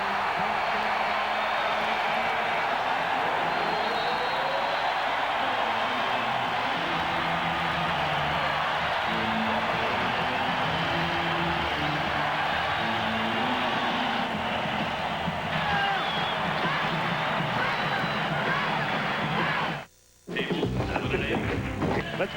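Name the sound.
basketball arena crowd cheering during 1994 NBA playoff game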